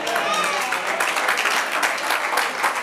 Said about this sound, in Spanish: si le vamos a aplaudir a Dios